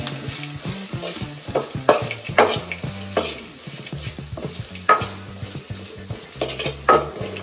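Coconut rice being lightly stirred in a pan, repeated spatula scrapes and knocks in an uneven rhythm over a soft sizzle, close and clear with no talk.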